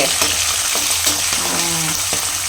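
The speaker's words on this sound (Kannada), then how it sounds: "ಎಣ್ಣೆ ಕಾಸಿದ ತಕ್ಷಣ ಎದುರ್ತಾ ಇದೆ" Curry leaves and green chillies splutter loudly in hot oil for tamarind chitranna, a dense close crackle with sharp pops and bursts over a constant frying hiss.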